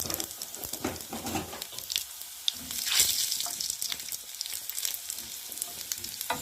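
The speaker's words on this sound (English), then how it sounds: "now my garlic and this will get fried" Garlic and dry chillies frying in a pan for gram dal roti, a close crackling sizzle with irregular stirring clatters and a brief louder burst near the middle.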